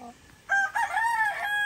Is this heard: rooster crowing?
yes